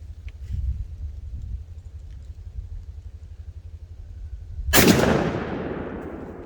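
A Winchester SX4 shotgun fires a single 3.5-inch number 2 load outdoors, one sharp loud blast near the end with a long fading echo after a stretch of low wind rumble.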